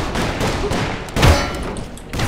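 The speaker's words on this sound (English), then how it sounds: "You shot me in the back, idiot!" Gunfire in the video game Call of Juarez, a few dull thuds and one sharper shot near the middle over a busy, noisy game background.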